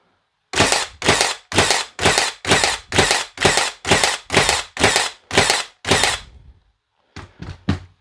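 A Milwaukee M18 cordless 18 gauge brad nailer fired in bump mode, giving about a dozen loud, evenly spaced sharp snaps in quick succession, then a pause and three more rapid shots.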